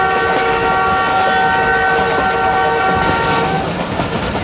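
A passenger train in Pakistan, running nonstop between Chaklala and Gujar Khan, sounds a loud, sustained horn for about four seconds over the close rumble and clatter of the carriages.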